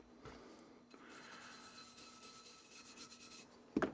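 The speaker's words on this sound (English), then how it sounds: "And I'll use this brush on the top of the rib here." A brush scrubs rust from the rib of a gun, a close, faint, steady rasping rub that ends with a couple of louder scrapes.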